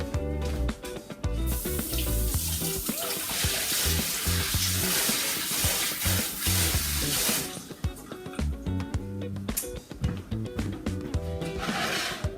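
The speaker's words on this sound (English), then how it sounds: "you always want to wash your mushrooms" Fresh mushroom clumps rinsed under a running kitchen tap: a loud, steady hiss of flowing water dominates the middle stretch, with clattering handling noises before and after, and no talking.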